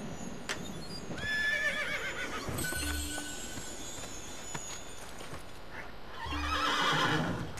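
Horse neighing in the video game Assassin's Creed II, two whinnies separated by a few seconds, loud and close, set against a steady game-world background with a faint clip-clop.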